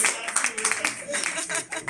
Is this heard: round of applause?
yes